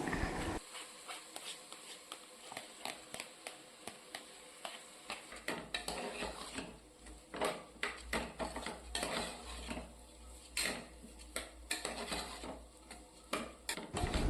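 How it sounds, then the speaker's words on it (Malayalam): Washed rice is stirred into masala in a pressure cooker with a metal spoon, giving quiet, close scrapes and clinks in an irregular rhythm and near silence between strokes. "ഇതൊന്ന് ഇളക്കിയ ശേഷം കഴുകി വെച്ചിരിക്കുന്ന അരി കൂടെ ഇട്ട് ഇളക്കാം"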